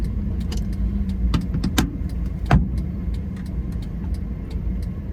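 A car pulls out of a petrol station in Uzhhorod during a driving exam route, a steady low engine hum from inside the cabin with scattered small clicks and rattles, and no talk.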